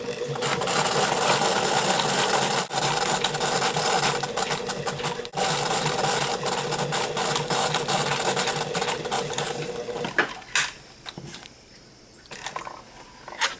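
A sewing machine runs steadily in a fast, even whir as it stay-stitches garment fabric at the shoulder, about half an inch from the edge, then stops and leaves a few quieter clicks and handling sounds.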